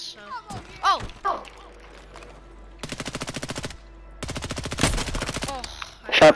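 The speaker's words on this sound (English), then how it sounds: "Shots fired." Video game gunfire comes in two long rapid automatic bursts, with scattered single shots and sharp cracks among them. Players' voices react and exclaim around the shooting.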